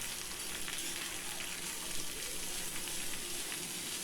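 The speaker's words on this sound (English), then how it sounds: "Saute this till the onions turn translucent" Chopped onions sauté in a pan with a steady, close, even sizzle and crackle that holds without a break for the whole stretch. No one speaks.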